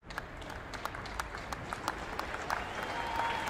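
Applause in a French TV advertisement, steady clapping from a large crowd, with sharp claps standing out over a dense, even layer.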